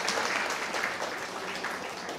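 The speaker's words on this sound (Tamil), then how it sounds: "அந்த ஓதுவாருக்கு ஒரு கைத்தட்டு" Audience applause at a Tamil comedy debate stage show, a dense steady wash of many hands clapping at even loudness throughout, with no talk over it.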